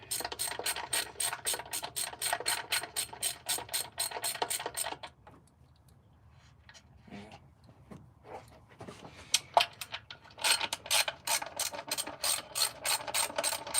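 A ratchet wrench loosens the screws of an Edelbrock intake manifold with quick, close, rapid clicking. The clicking pauses halfway through and then picks up again.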